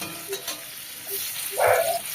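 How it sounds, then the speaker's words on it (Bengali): Pieces of stingray fish go one at a time into a hot wok of oil, bringing a steady sizzle that swells into a louder hiss near the end, close by and with no voices. "আর এই দিকে আমি কড়াইতে এক এক করে মাছের টুকরোগুলো দিয়ে দিচ্ছি"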